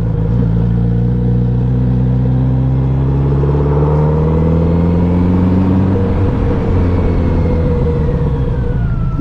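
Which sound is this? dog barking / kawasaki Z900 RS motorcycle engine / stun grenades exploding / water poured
kawasaki Z900 RS motorcycle engine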